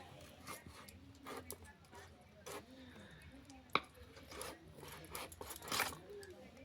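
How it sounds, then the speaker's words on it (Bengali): Fish being cut into large pieces for a village-style fish curry, with soft chopping and scraping knife strokes and one sharp knock, heard close under quiet, intermittent talk. "এটা এই দেখো এখন আমি পিস পিস করে নেব, একটু বড় বড় পিস করবো।"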